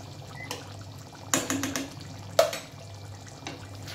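Ghee and garam masala go into a pan of cooking paneer, giving a few soft, close clatters and a light liquid splash-sizzle spread over a few seconds, fairly quiet.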